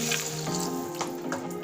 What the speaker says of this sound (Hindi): अब मैं इसमें पानी डाल देती हूँ